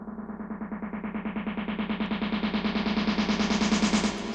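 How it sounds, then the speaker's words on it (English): A rapid pulsing synth bass repeats in even notes while a filter sweeps gradually brighter, with a reverberant, distorted edge. "We could also filter in some reverb on it."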